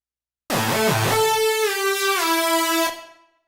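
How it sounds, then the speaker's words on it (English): Mono unison synthesizer patch of two sawtooth waveforms with chorus added, a thick shimmering tone that opens with a quick wobbling pitch figure, then glides down through held notes before stopping, loud and alone. "And with the chorus."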